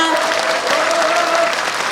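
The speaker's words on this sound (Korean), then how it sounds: "여러분들 동의하신다면 큰 박수 부탁드립니다." A talk-show studio audience claps loudly and steadily for about two seconds, a dense close burst with a faint held tone underneath.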